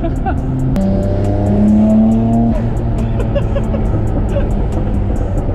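A Nissan Skyline R34 GTR twin-turbo engine hums steadily up close, its tone stepping up and down with revs and a brief rising whine, while a repeating high ticking runs through and people talk over it.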